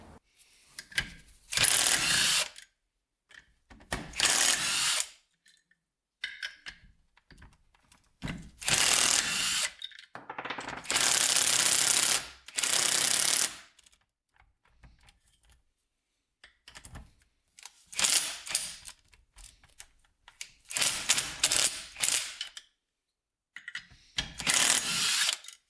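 Ratchet work on a Yamaha Blaster engine's top end as the cylinder head comes off: repeated bursts of close, loud ratcheting and mechanical clicking, separated by short pauses, with no talking.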